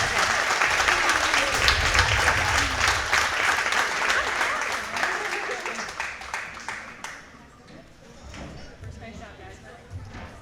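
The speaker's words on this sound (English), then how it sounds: "Let's give her a round of applause." An audience at a junior fair goat show breaks into loud, sustained applause, the clapping gradually thinning and fading away over about ten seconds.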